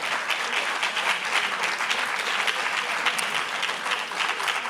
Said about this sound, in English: a huge round of applause once again, Dr. Sonn,